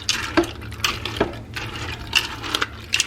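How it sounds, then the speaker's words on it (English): Water splashes in short bursts into pasta in a Ninja Foodi cooker, several quiet pours and trickles separated by brief pauses, close and with no talk. "I might add just a tad bit more water."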